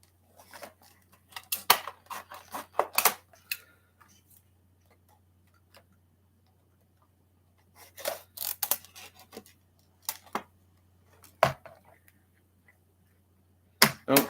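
Scissors snip through Greenlight and Mini GT diecast car packaging in short clustered bursts of crisp cuts, separated by quiet pauses, close by.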